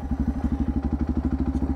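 A Suzuki DR650 motorcycle with modified carburetors idles nearby, its single-cylinder engine thumping in a steady, fast, even rhythm.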